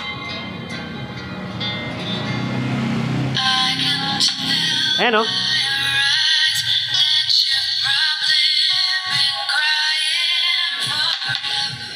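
Tweeter speaker driver playing a test sound with bass and mid settings turned low: bright, trebly music with shifting high tones, loud and steady after a muffled opening, with a person briefly speaking.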